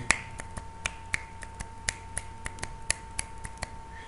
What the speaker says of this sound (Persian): بشکنم میتونید بزنید.